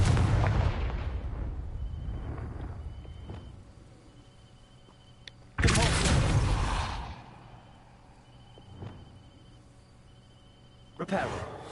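A Confringo fire blast spell explodes in Hogwarts Legacy, with a sharp booming blast at the start and another loud burst midway, each trailing off into a rumble, plus a smaller pop near the end.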